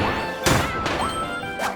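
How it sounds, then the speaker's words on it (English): Punchy combat sound effects from Kirby and the Forgotten Land: three sharp whacking impacts with bright synthetic flourishes, spaced about half a second apart over a layer of game ambience. "all of the sound effects are equally charming and combat sounds punchy"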